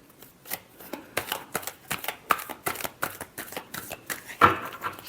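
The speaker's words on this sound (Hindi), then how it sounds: "last shuffle" Tarot cards being shuffled by hand, a series of close, crisp riffling and slapping bursts in an uneven rhythm with brief pauses between them.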